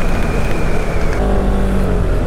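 A Polaris Ranger 1000 EPS utility vehicle drives along a trail, its engine droning loud and steady with constant rumble and road noise, and no pauses.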